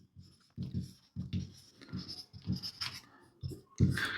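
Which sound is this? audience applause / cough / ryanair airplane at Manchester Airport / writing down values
writing down values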